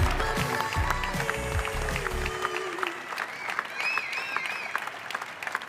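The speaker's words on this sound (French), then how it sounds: "On peut encore les applaudir." A crowd at a French bakery championship prize ceremony claps in sustained applause, loud at first then thinning out, with a few voices briefly audible underneath.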